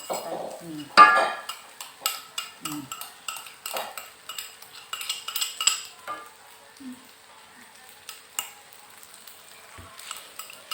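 Rice being stir-fried in a pan for Solaria-style nasi goreng, with rapid clinking and scraping of a metal spatula against the pan in quick irregular bursts, close and clear, a faint sizzle beneath.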